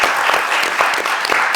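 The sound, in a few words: audience applause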